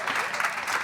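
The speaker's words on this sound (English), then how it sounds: "let's give her another round of applause" Audience applause at a cast reunion talk show, steady dense clapping from a crowd filling a short burst.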